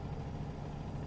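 A Detroit diesel truck engine in the American Truck Simulator game holds a constant idle, a dense low drone that stays even and near throughout, with no voices over it.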